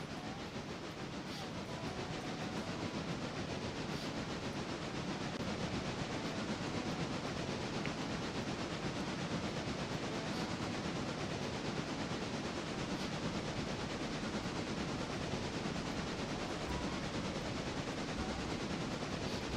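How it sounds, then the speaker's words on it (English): A locomotive running in a train simulator video game, a steady, uniform rumble and hiss that holds at an even level throughout with no voices. "This is a neat locomotive."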